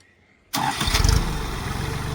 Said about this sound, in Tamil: இன்ஜின் பாருங்கள் எவ்வளோ ஸ்மூத்தாக இருக்குதுன்னு.